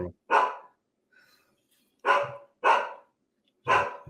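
Two dogs bark at a mail delivery, with four sharp, loud barks spaced out by short silences, one pair coming close together near the middle.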